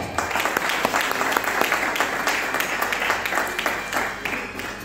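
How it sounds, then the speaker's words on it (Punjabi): An audience at a Punjabi program breaks into loud, sustained applause, dense overlapping clapping that carries steadily through the whole stretch. "ਜਾਨਦਾਰ ਤਾੜੀਆਂ ਦੇ ਨਾਲ"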